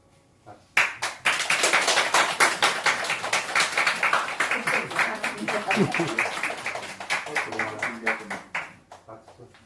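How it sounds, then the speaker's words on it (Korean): Dense, sustained hand clapping from a group at a Buddhist retreat-closing ceremony, many hands striking in a rapid irregular patter that holds steady for several seconds before thinning out near the end. "박수."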